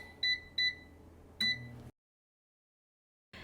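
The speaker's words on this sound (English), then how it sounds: "Now the air fryer is done cooking," An air fryer beeps as it finishes cooking salmon teriyaki: three short, loud electronic tones, with the first two close together and the third after a pause, then silence.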